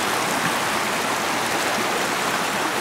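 The Uncompahgre River flows at dusk along the Ouray Riverwalk in the Colorado mountains, a steady, close, full rush of moving water with no pauses and no voices.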